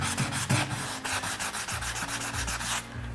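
A cloth rubs back and forth over painted furniture finished with Fusion mineral paint, making rhythmic, close, scratchy strokes with a steady repeated beat and no voices.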